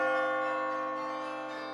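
A single bell sound effect rings out and slowly decays over just under two seconds, a loud sustained metallic tone with rich overtones and nothing else heard.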